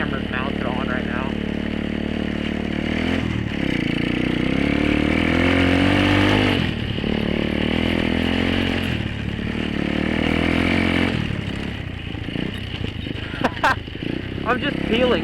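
Dirt bike engine revving hard while peeling out in snow: a loud, close engine rising and falling in repeated surges, with a person talking and shouting over it.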